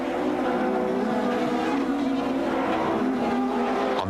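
Audi super touring race cars battle closely at a 1996 South African championship round in Port Elizabeth, a loud, sustained blend of high-revving engines with a continuous roar and shifting pitch.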